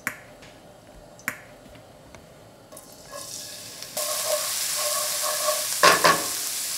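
Oil heating in a pan for spicy seafood and meat noodle soup; after a couple of sharp clicks, a hissing sizzle starts and grows into a steady loud fry with a brief burst of crackling.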